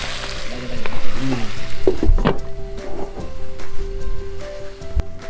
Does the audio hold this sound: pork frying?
yes